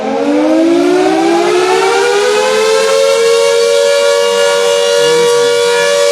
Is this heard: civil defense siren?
yes